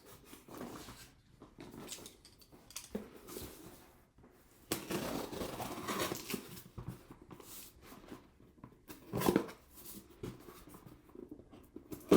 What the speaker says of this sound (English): I'll just cut really quick because I have to open this box